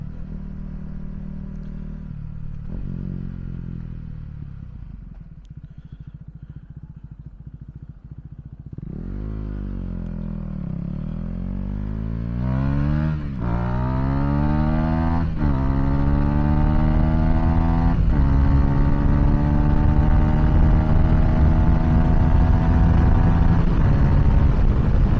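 KTM Duke 390 motorcycle engine revving under throttle while riding, loud and close, with rising and falling pitch sweeps as the rider accelerates through gears, steady engine drone throughout, no talking.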